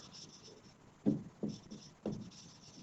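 Chalk writing on a classroom board during a Class 10 English lesson, heard as three short scraping taps spaced about half a second apart, close and fairly quiet, with no talk over them.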